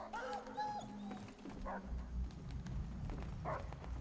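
Dogs bark and whimper in Call of Duty: World at War, a few yips and barks scattered over steady game noise and rumble, with faint voices in the background.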